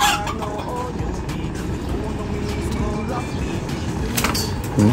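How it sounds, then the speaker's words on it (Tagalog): Red junglefowl (labuyo) chickens cluck in a busy outdoor setting, loud and close, with a steady rumble of passing traffic underneath and some background voices. "Ito yung labuyo natin na magkaiba mata."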